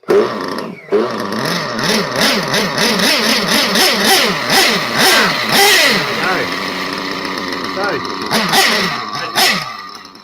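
A nitro RC car engine, just fired up after its glow plug warmed, buzzes loud and close as the throttle is blipped, its pitch rising and falling in quick repeated revs, with people talking over it.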